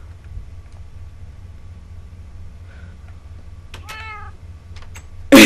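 A cat meows in a Minecraft game, one clear drawn-out call about two-thirds of the way in, heard alone over a low steady background hum, followed by a sudden loud burst at the very end.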